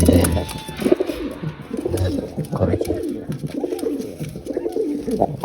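A seven-year-old male domestic pigeon coos up close, repeating soft low throaty calls over faint background noise.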